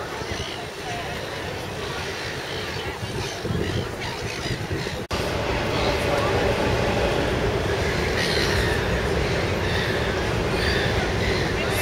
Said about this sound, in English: These are Metro or Sydney Transport, Sydney trains arriving here.